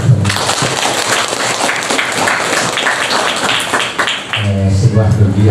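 Applause from a school audience for a student's novel at a book launch and review event in Garut, a dense continuous patter of clapping filling the room, with speech emerging near the end.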